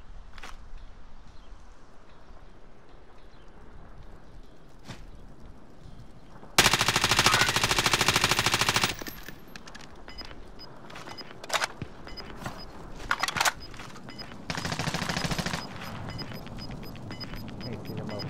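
Automatic gunfire crackles through a Call of Duty: Modern Warfare match, two long loud sustained bursts with scattered shorter shots around them, set over a quieter background of footsteps and game ambience.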